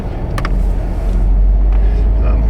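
A 2009 Dodge Charger 3.5 HO rolls down the road with a steady, low engine and road rumble heard from inside the car, plus a couple of faint clicks.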